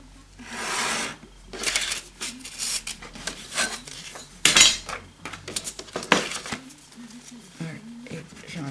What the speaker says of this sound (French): Et donc après, je prends mon cutter